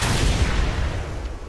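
Gunfire in the Mad Max video game, a loud sustained blast of noisy booming that fills the moment and slowly trails off.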